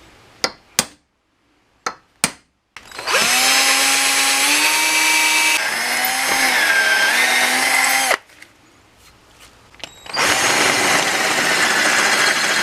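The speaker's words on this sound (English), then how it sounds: "I think all we're going to do is start drilling out the middle of that" A drill bores out an aluminum nub on the tension pulley bracket of a Jeep 4.0, loud whining runs with shifting pitch after a few metallic clinks, then a brief pause and another burst.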